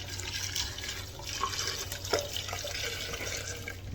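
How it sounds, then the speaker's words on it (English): Hot broth splashes steadily from a pot onto dried chilies in a bowl, a soft continuous pour with faint bubbling close by and no voices. "once that broth is nice and hot, we're gonna go ahead and pour it in here."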